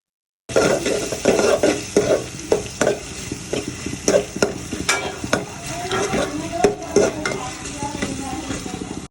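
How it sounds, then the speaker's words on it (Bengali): Chopped onions fry in oil in a karahi for beef biryani, a steady close sizzle broken by repeated scraping and clinking of a spoon stirring against the metal pan, with no voices. "বিরিয়ানির গরুটা রান্না করার জন্য প্রথমে কড়াইতে তেল দিয়ে দিতে হবে, এরপরে পেঁয়াজ কুচি দিয়ে দিতে হবে"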